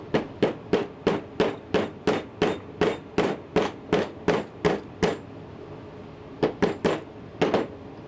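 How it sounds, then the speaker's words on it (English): A hammer strikes through hardened acrylic glue on the legs of an EPROM socket on an arcade daughter card, about a dozen sharp, loud, evenly paced blows, then a pause and a few more hits. "I'm literally gonna try to hammer through it."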